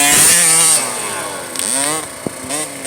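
Motocross motorcycles racing on a practice track, their high, buzzing two-stroke-style engines revving loud and close, with pitch sweeping up and down as bikes pass.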